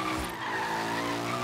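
A car drifts in Forza Horizon 3 in third gear, its tires squealing loudly and continuously over a droning engine, the screech holding steady throughout the short burst.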